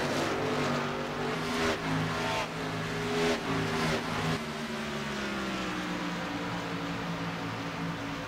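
Race car engines on the Homestead track in iRacing drone loudly and steadily, with several cars revving and passing in overlapping waves through the whole stretch.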